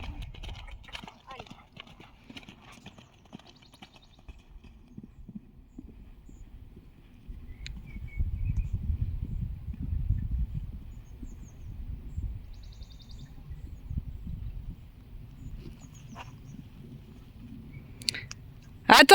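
Horse galloping during a riding lesson, steady rhythmic hoofbeats on soft ground growing louder midway and fading, while an instructor's voice talks over the top.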